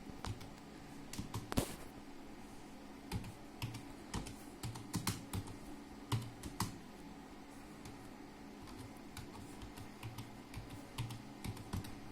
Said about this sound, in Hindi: मैं आपको कीबोर्ड से लिख के दिखाऊंगा